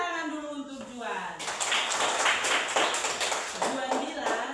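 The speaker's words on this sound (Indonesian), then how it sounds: "Oke, tepuk tangan dulu untuk Juan" A school class applauding a student, a steady burst of many hands clapping close by for about three seconds, following a speaking voice at the start.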